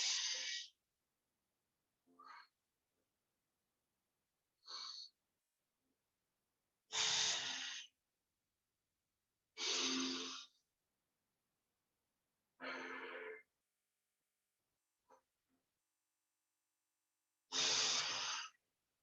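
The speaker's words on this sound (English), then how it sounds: "Close your right, open your left, and breathe out from left." Slow yoga pranayama breathing through alternate nostrils, close and soft, with about eight separate breath strokes at regular intervals of roughly two to three seconds, separated by silence.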